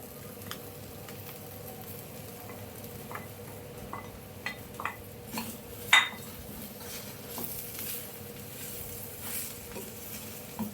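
Okra tossed into a pan with sautéed onion, green chilli and garlic for Maharashtrian bhendi bhaji, a soft sizzle beneath scattered clinks and scrapes of a stirring spoon, with one sharper metallic knock midway.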